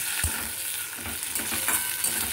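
Medium tomato frying with spices in a pan for a mustard tengra fish curry: continuous dense sizzling with soft stirring scrapes and small thumps, close and steady, no voices.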